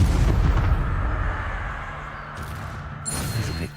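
A burst of Incendio fire spell in Hogwarts Legacy roars out as a loud, rumbling blast that fades into a softer crackle, then flares briefly again near the end.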